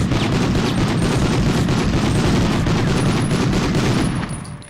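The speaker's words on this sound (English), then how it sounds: "Grenade." Dense, loud gunfire and grenade blasts from the 1999 video game Medal of Honor roar continuously for several seconds in a rapid, overlapping barrage before fading slightly at the end.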